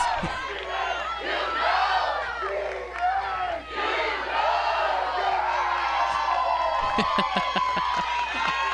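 A crowd at a Little League softball game cheers and hollers loudly, overlapping excited shouts and whoops rising and falling with some scattered claps near the end.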